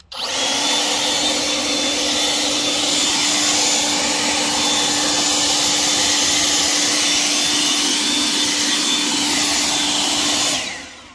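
A Kobalt 500 CFM cordless brushless leaf blower runs steadily at high power for about ten seconds, a loud close whooshing roar with a constant motor whine, starting and stopping abruptly.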